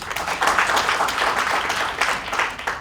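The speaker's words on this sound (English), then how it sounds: "please clap for her." An audience at a Nairobi County government meeting claps for a colleague, a moderately loud burst of applause in uneven swells lasting a few seconds.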